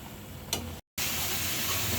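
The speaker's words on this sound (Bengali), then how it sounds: "মশলাটার সাথে পেঁয়াজটা ভালো করে কষিয়ে নিয়েছি।" Onion and spice masala sizzling in a pan for hilsa do-peyaja, a close, steady frying hiss with a brief stir sound and a momentary cut before the sizzle resumes.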